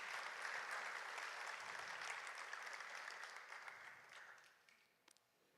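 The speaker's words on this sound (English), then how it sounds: "Let's give Sophia a round of applause." A student film festival audience gives an award winner applause, a soft, distant wash of clapping that holds steady, then fades out with a few last claps.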